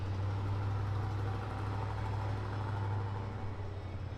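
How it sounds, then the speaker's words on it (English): Chainsaws carving wood sculptures make a steady, droning engine hum in the background, continuous and fairly loud across the whole stretch with no talking. "So all the sounds you hear in the background are chainsaws currently making art."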